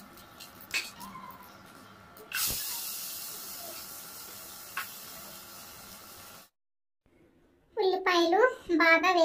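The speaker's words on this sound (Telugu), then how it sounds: "ఉల్లిపాయలు బాగా వేగించాలి." Onions frying in oil and ghee in a kadai on a stove, a steady close sizzle and hiss that cuts out briefly before a voice speaks over the end.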